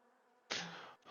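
Bees buzz in the video game Minecraft, a sudden loud, bright insect drone that swells in close and holds steadily for about half a second before cutting off, with no voices over it.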